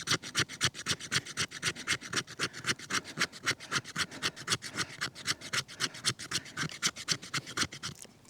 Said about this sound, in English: Some fat wood to see if I can scrape some fat wood down.